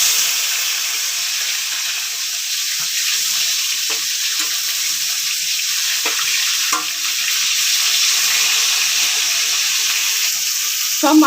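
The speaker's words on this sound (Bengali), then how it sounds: "এবারে মাছগুলো ভেজে নেব।" Pieces of fish sizzle steadily in hot mustard oil in a pan, a dense, even frying hiss that carries throughout, with occasional soft pops and stirring clicks and no talk.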